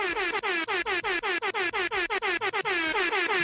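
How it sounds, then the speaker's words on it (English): Air horns blast in a rapid string of short, loud pulses, repeating rhythmically before merging into a longer sustained honk. "all the fucking air horns, man."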